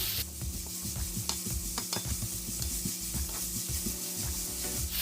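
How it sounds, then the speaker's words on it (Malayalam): Masala for a Kerala-style egg roast being sautéed and stirred in a pan, with a steady close sizzle and repeated scraping strokes of the spoon, no talking. "നന്നായിട്ടൊന്ന് വഴറ്റിയെടുക്കണം"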